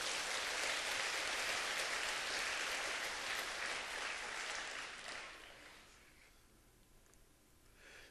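Church congregation applauding, a dense steady round of clapping that fades to quiet about five seconds in.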